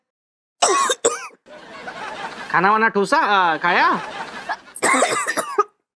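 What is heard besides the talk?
coughing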